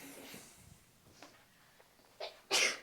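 A quick, sharp sneeze bursts out near the end, preceded by quiet breathing and faint movement in an otherwise calm room.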